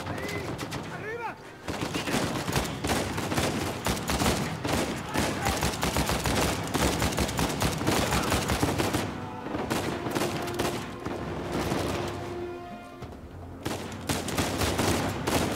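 Rapid bursts of gunfire from a weapon in the video game Uncharted 4, dense repeated shots running almost continuously at close range with game effects behind and talk mixed in.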